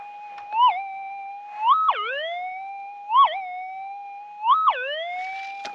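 A Minelab SDC 2300 metal detector's alternate audio tone warbles and sweeps in a repeating pattern, a steady pitched beep that rises and dips four times at regular intervals, clear and alone.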